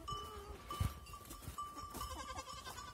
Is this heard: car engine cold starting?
no